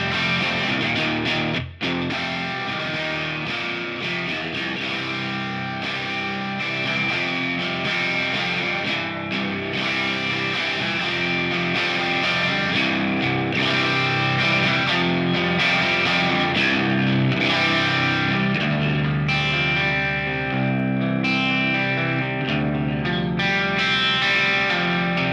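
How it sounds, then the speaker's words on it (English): Electric guitar played through the distortion effect of a Line 6 POD Express, a continuous driven, saturated tone with sustained chords and notes, loud and steady throughout with no talking. "that's the distortion."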